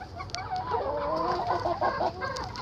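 A black hen with a golden breast clucks close by in a run of short, soft, throaty calls, fairly quiet, with no talk over it.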